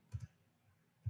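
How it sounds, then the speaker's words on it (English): Three soft, close clicks from a computer mouse while working in Microsoft Access, two in quick succession then one more after a pause, faint against a quiet room. "I'm going to click over here"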